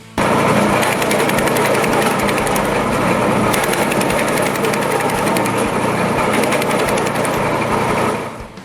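Petrol-engine branch shredder with a 16-18 horsepower motor and conveyor belt runs loud and close, a constant high-revving engine drone with mechanical clatter, dropping off at the very end.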